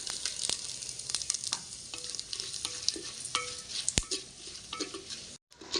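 Bay leaves, dried red chillies and crushed whole garam masala fry in hot mustard oil, giving a steady close sizzle broken by repeated scrapes and clinks of stirring, with no voices.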